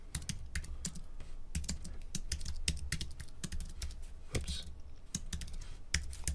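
Rapid, uneven clicking of keys on a computer keyboard, close and fairly quiet, with sharp individual strikes and short pauses and no one talking.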